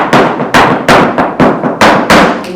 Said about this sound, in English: So one of your favorite footworks is this one.